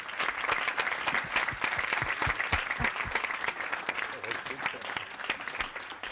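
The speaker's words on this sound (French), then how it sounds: "je vous invite à applaudir" Audience applause for two guest speakers at a design meetup, a steady dense clapping that fills the room and continues throughout with a few louder individual claps near the front.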